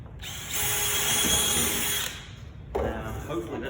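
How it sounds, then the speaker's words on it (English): A power drill bores into a piece of plywood, whirring at high speed for about a second and a half, stops, then starts again briefly with a rougher grinding tone. "I'm going to start my drill bit."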